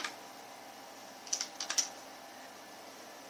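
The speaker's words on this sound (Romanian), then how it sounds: "și scriem mesajul." Brief typing on a computer keyboard, a short quiet cluster of several crisp key clicks in the middle of an otherwise still, faintly hissing room.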